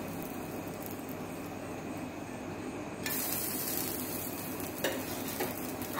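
A moringa-leaf dosa sizzling on a hot pan as ghee is poured over it, a steady close frying hiss that grows louder and brighter partway through.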